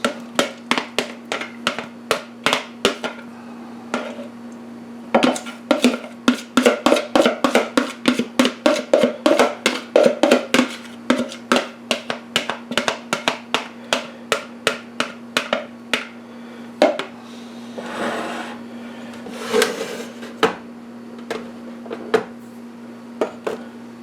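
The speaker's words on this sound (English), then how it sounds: "stir it up, good it said, to redistribute the yeasts that are developing" Spoon stirring a sourdough starter in a bowl, knocking and clinking against the sides in quick, irregular bursts of sharp taps over a steady low hum, close and fairly loud with no talking.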